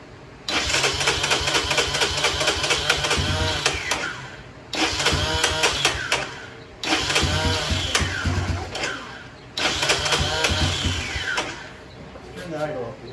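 A Honda Big Red engine runs after a carburetor upgrade. It gives four loud, raspy runs of revving several seconds long, each broken by a brief dip, with voices nearby.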